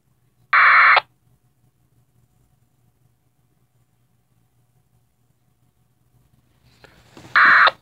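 A radio scanner on a snowy winter day gives two short, harsh bursts of digital data noise, one near the start and one at the end, separated by a long near-silent stretch with a faint low hum.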